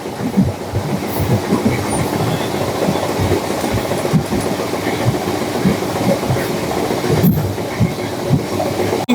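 Steady rumble and rattle of a Barddhaman to Asansol MEMU local passenger train on the move, heard from inside a carriage, with continuous wheel clatter and occasional faint squeals, loud and unbroken throughout.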